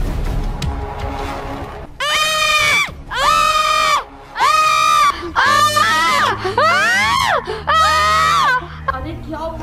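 Children scream loudly in a series of long, shrill, wavering cries, several voices overlapping, broken by brief pauses, with a low tonal drone underneath toward the end.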